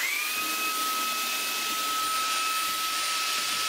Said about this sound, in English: This is a Shark handheld vacuum